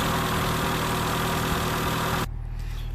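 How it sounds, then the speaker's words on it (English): A Citroen C3 VTR+ engine idles steadily with its alternator not charging, a dense, even running hum that cuts off sharply near the end, leaving a quieter low rumble. "the engine is running, and as you can see, my crankshaft pulley is turning"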